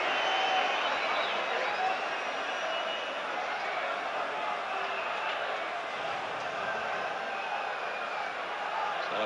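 Distant applause from a football stadium crowd during a FC Brugge versus Rangers match, a broad, steady roar under faint background noise.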